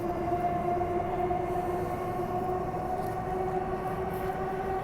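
Transperth B-series electric train running through an underground tunnel section, a sustained loud rumble with steady whining motor tones, continuous and close for the full stretch without talk.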